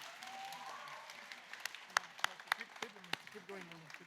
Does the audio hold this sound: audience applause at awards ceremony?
yes